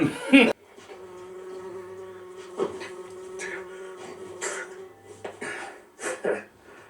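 A buzzing bee sound effect drones steadily and close, broken by a sudden burst at the start and several sharp clicks and rising buzz swells.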